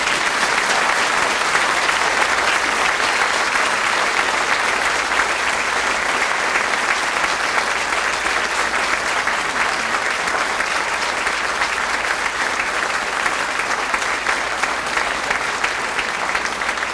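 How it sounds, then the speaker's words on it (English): Loud, sustained applause from an audience at a St. Paul police awards ceremony honoring a Detective of the Year, dense and unbroken for the whole stretch. "Let's give him a loud round of applause."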